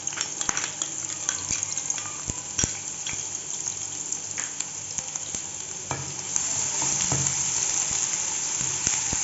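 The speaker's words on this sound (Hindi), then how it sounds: "ये ऑयल गर्म होगा तो मैं इसके अंदर लहसुन डालूँगी" Garlic fries in hot oil in a pan with a dense, continuous sizzle and crackle, a few utensil clicks against the pan, and the frying swelling slightly louder toward the end.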